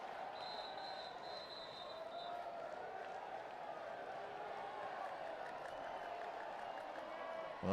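A distant stadium crowd murmurs and cheers softly at a Paralympic 5-a-side football semi-final between Argentina and Iran in Rio, a steady faint roar with a brief whistle tone early on.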